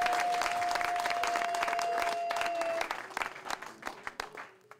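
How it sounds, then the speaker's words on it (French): Enthusiastic applause from a gathered crowd at a donation ceremony at the Monatélé main prison, dense, loud clapping that thins into scattered individual claps before fading out. "nous devons donner un tonnerre d'applaudissements"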